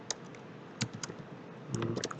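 Keys tap on a computer keyboard as text is typed into MS Word, a few scattered quiet clicks followed by a quicker close run of keystrokes.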